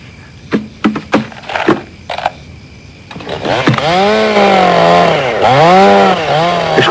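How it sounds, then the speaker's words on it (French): A few sharp knocks, then a chainsaw starts up close and loud, its engine revving up and down in repeated swells. "Je croyais lui avoir dit de me couper cette tronçonneuse"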